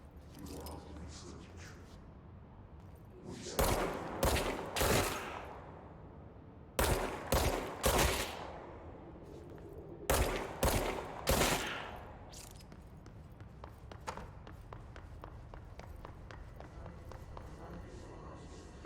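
Gunfire in the video game Control comes in three loud clusters of rapid shots, each a tight burst of cracks, separated by quieter stretches with faint footsteps and light game noises.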